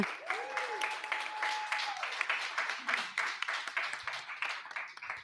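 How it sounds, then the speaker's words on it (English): Guests on a live Washington DC show receive a lively round of audience applause, a dense patter of clapping with a brief whistle-like tone near the start, tapering slightly toward the end. "Let's give a big round of applause to our guests."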